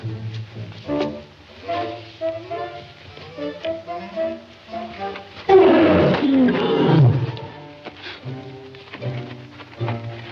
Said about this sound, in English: Where's that lion at?